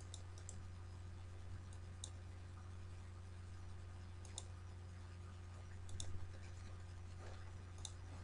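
Computer mouse clicks on a desktop, a few sharp isolated taps spread irregularly over a steady low electrical hum.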